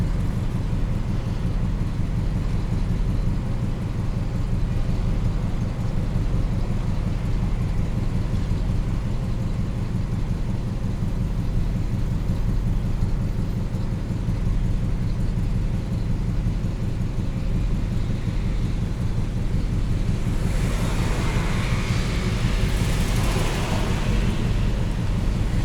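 A 1980 Pontiac Firebird cruising with the window down: steady low engine and road rumble with wind buffeting through the open window, a gust swelling near the end, no talk.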